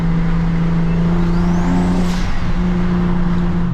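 A BMW 335is engine hums steadily at close range while driving, its drone holding a constant low pitch throughout with a faint whine rising briefly near the middle.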